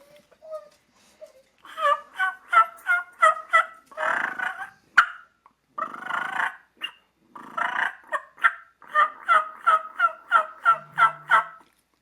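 A handheld turkey call mimics a turkey hen, making a steady run of light yelps and clucks in rhythmic bursts over several seconds, close and clear with no talking.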